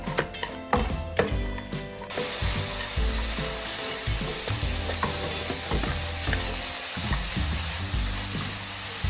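Medium anchovies stir-fried in seasoning sauce, a steady close sizzle broken by repeated scraping and clacking of a spatula against the pan, with no talking.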